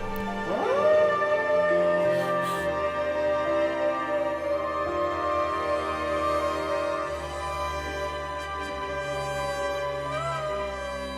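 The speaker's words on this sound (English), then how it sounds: "the howl at the very end of the film is symbolic" A wolf howls at the close of a film, one long sustained mournful cry rising and holding for many seconds over a low musical bed, fairly loud and alone.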